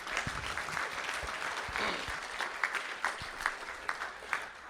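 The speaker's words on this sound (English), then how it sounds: "Let's give them a round of applause tonight." Audience applauding at a school district board of trustees meeting, a steady patter of clapping from a roomful of people in an indoor hall with a few sharper claps standing out.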